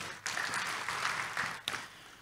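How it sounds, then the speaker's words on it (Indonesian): A church congregation applauding during a Sunday service, a brief burst of clapping from a crowd in a reverberant hall, steady and moderately loud, with a couple of sharper claps near the end. "Tepuk tangan sekali lagi buat Tuhan Yesus"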